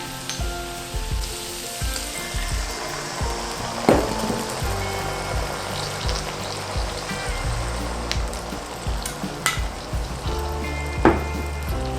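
King oyster mushrooms stir-fried in a wok for a vegan three-cup dish sizzle steadily up close after water and rice wine are poured in, with repeated scraping and clanking from the spatula over the frying.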